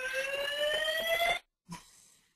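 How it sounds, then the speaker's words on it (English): An office fire alarm sounds during a scheduled test, a loud steady electronic tone with harmonics that runs for about a second and a half, cuts off, then resumes briefly more softly. "We're having some alarm testing in our office."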